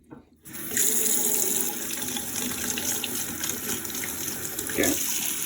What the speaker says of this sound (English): See if you can get some cold water.